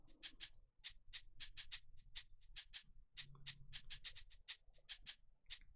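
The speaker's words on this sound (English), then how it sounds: "So I started off with the shaker actually and started like sounds like this." A shaker sample from the POJ drum kit, pitched down, plays a crisp rhythmic pattern of quick, evenly spaced hiss strokes with light accents, standing alone over a faint low hum.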